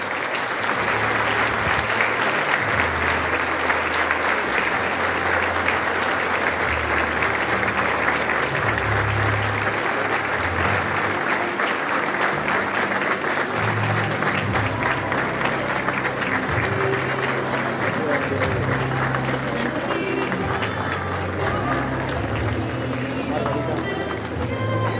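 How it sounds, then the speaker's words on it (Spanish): Loud, sustained applause from a school ceremony crowd at an education fair as ceremonial flags are farewelled, dense clapping continuing for a long stretch with low rumbling underneath and some voices mixed in. "Despedimos con un fuerte aplauso a las banderas de ceremonia que hoy nos están"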